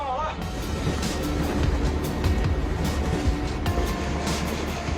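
A coal-hauling freight train rumbles steadily with a constant low roar and rattling, clattering wheels, close and continuous throughout with faint speech mixed in.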